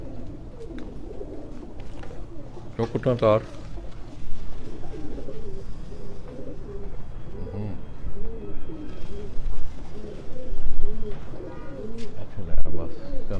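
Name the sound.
pigeons cooing at loft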